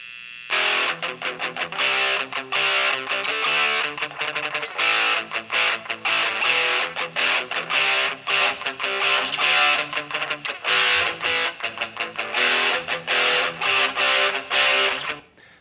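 Loud, heavily distorted electric guitar playing choppy, rhythmic chord bursts with abrupt cuts between them, no voices.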